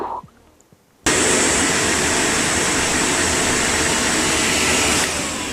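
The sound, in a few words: vacuum cleaner running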